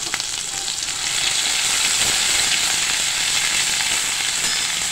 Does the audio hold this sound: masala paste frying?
yes